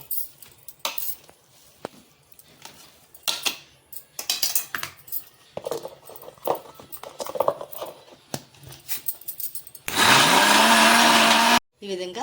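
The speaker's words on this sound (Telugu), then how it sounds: "రుచి తగ్గ ఉప్పు వేసుకొని మిక్సీ పట్టేసుకోవాలి" A mixer grinder roars for about two seconds as it grinds tangy gongura chutney with chilli and salt, preceded by clattering of the jar, lid and utensils being set up.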